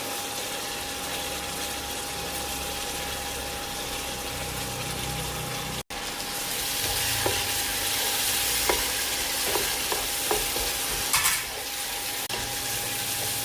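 Crushed fried onions being stirred into a curry masala with curry leaves, a steady frying sizzle with occasional spoon scrapes and clinks, close and continuous with no talking.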